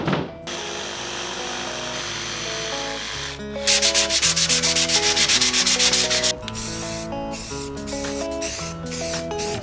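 An aerosol can sprays paint onto an MDF box in a loud, steady hiss lasting a few seconds, over background music that plays throughout.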